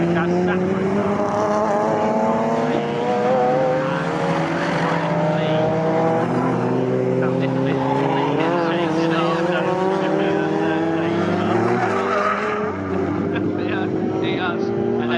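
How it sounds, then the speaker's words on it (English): A BMW and a Ginetta saloon race car running side by side at Snetterton circuit: loud, sustained engine roar with rising and falling pitch as the cars accelerate and shift gears, under continuous commentary. "And they're side by side now. Well yeah, the BMW in a straight line out dragging the Ginetta."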